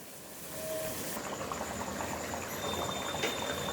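Chicken mixed with yogurt sizzles and bubbles steadily in a pan while being sautéed for Kashmiri chicken kanti, a soft continuous hiss at low volume.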